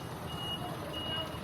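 Reversing beeps from a backing service truck: two steady electronic beeps, fairly close, over the rumble of the idling engine.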